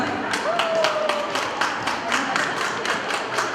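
Audience applause at an award ceremony for a mothers' festival in Yakutsk, steady clapping from a crowd lasting throughout, with a brief tonal whistle-like sound early on.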